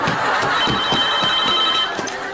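A telephone rings in a steady, continuous electronic trill during a comedy sketch at a photo shoot, loud and up close over a busy background with thumps and scuffling.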